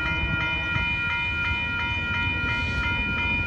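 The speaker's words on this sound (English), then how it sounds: "there goes Amtrak" Amtrak Texas Eagle passenger train passing at Dittmar Road in Austin, Texas: a steady loud rumble with rhythmic wheel clicks and a sustained high whine.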